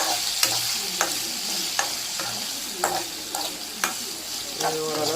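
A small tomato with salt sautés in a hot pan for curry-leaf chutney: a steady loud sizzle broken by regular scraping stirs, roughly one per second, with no talking.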